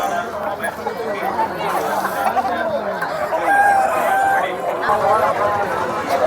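Roosters and hens at the Nallapadu poultry market cluck and crow amid a busy crowd, with people chattering throughout and brief fowl calls standing out over the steady market din.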